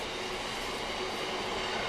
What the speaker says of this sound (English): that fucking train's putting me off